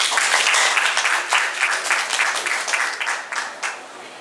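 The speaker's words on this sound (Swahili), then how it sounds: "Tumpigieni makofi Dkt. Hussein." An audience at a new school's opening ceremony applauds Dr. Hussein with a dense burst of clapping that fills the space, strong at first and then slowly thinning, with a faint voice underneath.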